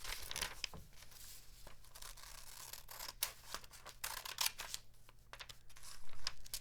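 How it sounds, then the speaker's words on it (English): Scissors snip through a paper coupon in a quiet room, a close, soft run of small crisp cuts and light paper rustles with irregular rhythm, no voices. "do you want me to cut it out or should I just pass along?"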